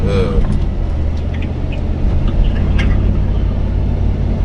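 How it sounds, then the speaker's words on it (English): An old 1987 BMW 325i E30 drives along, its engine and road rumble forming a steady, close, dense low drone from inside the car for the whole stretch. "About a old car trying to go around."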